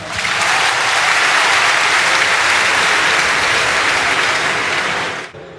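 Congregation in a church applauding a woman, with a dense, steady burst of clapping from many hands that holds at full strength for about five seconds before stopping abruptly.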